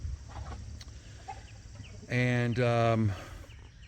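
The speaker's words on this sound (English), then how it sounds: "That's my zombie rooster." A rooster on a farm clucks in a loud, close burst of rising and falling calls over low background noise and faint outdoor sounds.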